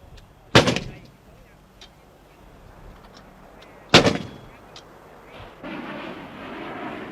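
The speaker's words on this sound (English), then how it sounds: "We watched as the local commander called in artillery fire." Two heavy artillery blasts boom through a forest during the Vietnam War, each a sharp loud crack trailing into rumble, a few seconds apart, followed by a low distant roar.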